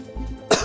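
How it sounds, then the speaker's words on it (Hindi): A single short, sharp cough bursts out after a brief moment of low background noise. "खांसी आ गई।"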